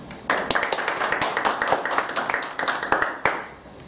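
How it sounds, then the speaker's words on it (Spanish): A lecture audience gathered for a tuberculosis talk gives the speaker a welcoming round of applause: dense, steady clapping from many hands, fairly close and loud, lasting about four seconds before tapering off. "La recibimos con un fuerte aplauso."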